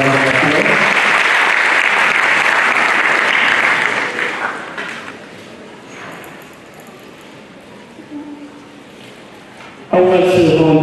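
A conference audience gives the Vice Chancellor a sustained round of applause, dense and loud at first, then fading to scattered claps before a voice picks up again at the end.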